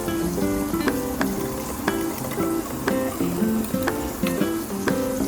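Steady crackling sizzle of chicken, sprinkled with a little lemon, frying in a hot pan, with occasional sharp pops and light utensil clinks throughout.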